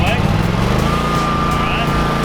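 A walk-behind lawn mower's small gasoline engine runs steadily and loud near the listener, its drone rising slightly as it is throttled up, with a thin whine riding above the low rumble.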